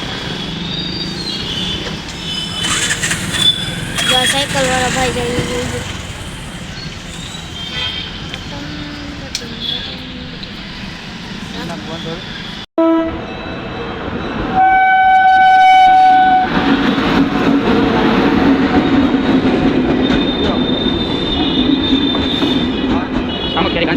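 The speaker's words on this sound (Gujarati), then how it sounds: "સામખિયારી ગાંધીધામ ટ્રેન આવી છે" Samakhiali–Gandhidham train arriving at a closed level crossing: a loud rumbling pass with squealing wheels and a sustained horn blast, people talking nearby over the noise.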